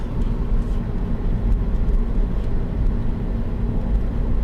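A Ferrari 308 overtaking through a corner, its engine a loud, steady droning roar mixed with road noise for the whole stretch, with no voices.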